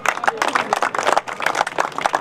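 A crowd at a shooting ball championship and award ceremony applauds, a busy, loud wash of many clapping hands that keeps going, with a slight dip in the middle.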